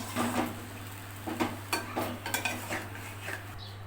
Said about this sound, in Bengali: বেগুনটা তেলের উপরে দিয়ে দিলাম বেগুনটা আমি কিছু সময় নেড়ে চেড়ে কষিয়ে নিব